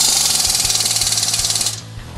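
A rapid rattling ratchet-like clatter tightens a control arm mount bolt on an HHR, a fast even series of clicks lasting under two seconds and then stopping, close and alone.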